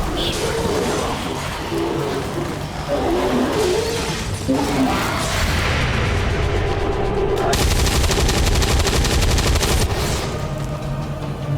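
Gunfire in XCOM 2 from an overwatch shot, loud and dense bursts with crashing, shattering debris over continuous battle noise, heaviest in the second half.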